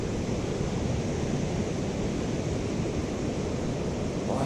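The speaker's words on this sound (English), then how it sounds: "Wow, river is high and rushing." A high, fast-rushing urban river in high water makes a steady, dense roar of flowing water, close and unbroken throughout, with no voices.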